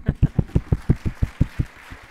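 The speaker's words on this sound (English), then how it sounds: "please clap." An audience claps in a slow, even rhythm, about ten distinct near claps roughly every quarter second that fade out toward the end.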